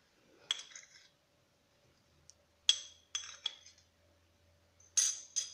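A whisk clinks against a bowl while beating cocoa cake batter for mini cakes, in short, sharp bursts of rapid metallic ticking separated by quiet pauses.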